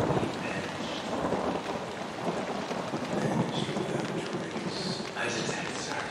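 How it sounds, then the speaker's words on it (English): Steady rain pours outside, with rolling thunder rumbling underneath, in the horror video game Outlast. The storm continues throughout as people talk over it. "It's raining outside all of a sudden."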